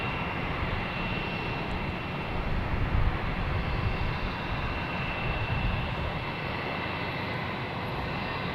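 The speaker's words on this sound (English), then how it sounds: "we have a Air Portugal coming in, A321neo, coming in from Lisbon." An Air Portugal A321neo airliner arriving from Lisbon comes in to land at Boston Logan, a steady broadband engine roar that holds loud throughout and swells slightly midway.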